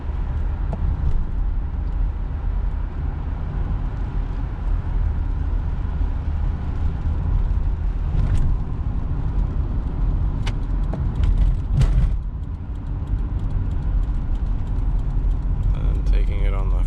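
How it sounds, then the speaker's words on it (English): A 1989 Toyota Crown Royal Saloon Supercharger cruising at speed on a freeway, a steady broad low rumble of engine, tire and wind noise throughout, with someone talking over it. "taking it on the freeway here, you'll see that it has plenty of power and good gearing for going high speeds"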